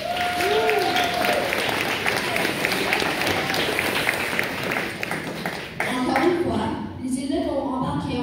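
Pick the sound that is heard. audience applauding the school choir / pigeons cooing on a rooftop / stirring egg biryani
audience applauding the school choir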